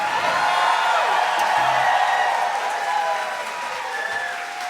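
A live big band concert crowd in a New York hall applauds and cheers loudly and steadily, then fades slightly toward the end.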